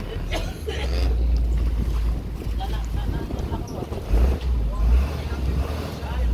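Steady low engine rumble of motor boats on open water, with wind buffeting the microphone and faint voices mixed in.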